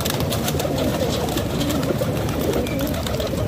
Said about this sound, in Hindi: अड्डे पे बैठा हुआ कबूतर आपको साफ़ सुथरा बेहतरीन नज़र आएगा